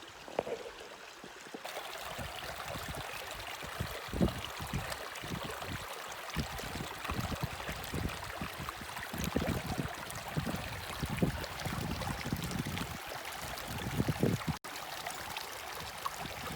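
A small stream flows steadily close by, a continuous broadband rush and trickle of water with faint low splashes, holding at an even level throughout.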